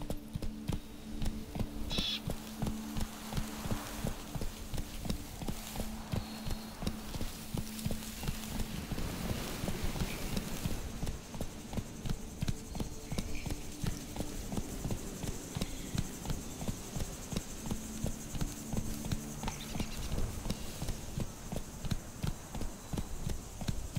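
A horse gallops steadily through The Witcher 3 with the 4K photorealistic mod, rapid rhythmic hoofbeats running throughout at a constant, moderately close level over a soft ambient bed.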